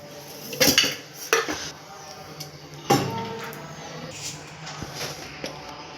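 Small metal pot set down in a home kitchen, then a ladle of oil poured in, with sharp clanks of metal on metal, a few lighter clinks and soft handling noise, close up.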